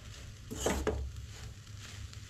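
Mixed vegetables for Goan khatkhate stew sizzle in a pan, with a brief louder stirring scrape partway through over a steady frying hiss.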